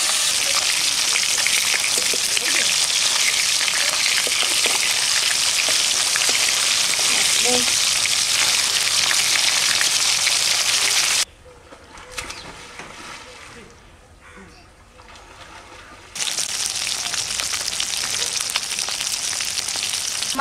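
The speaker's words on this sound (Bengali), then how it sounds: "মাছগুলো সুন্দর করে ভাজা হয়ে গেছে" Koi fish fry in hot oil with a loud, continuous sizzle that drops to a quieter crackle for a few seconds before returning at full strength.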